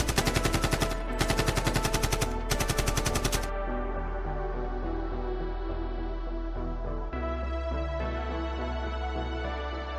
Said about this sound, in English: Peppering General Kill with heavy machine gun fire, managing to get a couple of wounds through this time.